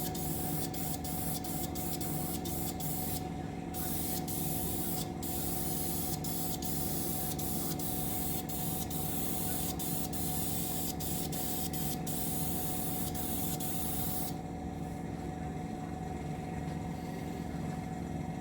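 An aerosol spray can painting a scale model of the Russian Navy Project 955 submarine Dolgoruky: a steady, close, continuous hiss with only brief breaks near the start and end.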